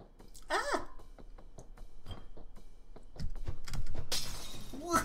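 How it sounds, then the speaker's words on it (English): Light bulbs smashed in the game Night in the Woods: a sharp burst of breaking glass near the end, after scattered small knocks, with a voice speaking through the clip. "Let's smash some light bulbs."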